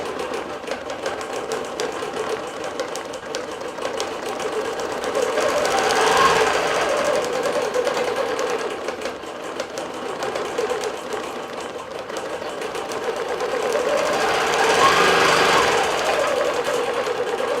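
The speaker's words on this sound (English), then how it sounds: "Working with our Bernina Q24 with Art and Stitch Software version 5" A Bernina Q24 longarm quilting machine stitches a quilt in a continuous dense mechanical chatter, swelling louder twice as the head moves, close and steady throughout.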